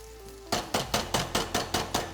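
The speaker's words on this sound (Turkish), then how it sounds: "Evet şimdi yavaş yavaş etimi kavuruyorum." Lamb meat sautéing with onions for a fruity lamb stew, heard as about seven sharp, evenly spaced utensil knocks against the pan over a low sizzle, close and without talk.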